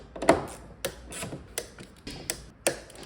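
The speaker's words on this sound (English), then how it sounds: "Next is to remove the 4 bolts here." A ratchet loosening bolts on a BMW M54B30 inline-six engine gives several sharp, separate clicking bursts with short pauses between, close by and alone.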